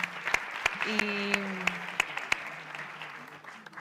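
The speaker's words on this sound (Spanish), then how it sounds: "Yo creo que damos un aplauso" A small audience claps after a panel discussion, with scattered, separate hand claps that thin out over a few seconds while a voice briefly speaks over them.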